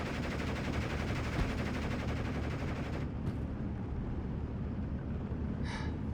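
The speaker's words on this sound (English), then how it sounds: "We're taking heavy fire." Machine gun nest firing in a Normandy 1944 Utah Beach battle: dense, continuous rattling gunfire up close, with no break and distant bursts layered underneath.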